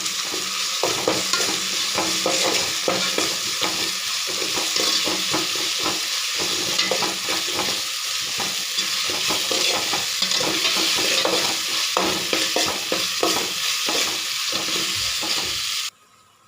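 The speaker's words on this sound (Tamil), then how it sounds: "இஞ்சி பூண்டு விழுந்து வெங்காயம் நல்லா வதங்கணும்" Onions sauté in oil with ginger-garlic paste for chicken biryani, a loud, dense and continuous sizzle close by, with constant rapid scraping of a stirring spoon, until it stops abruptly at the end.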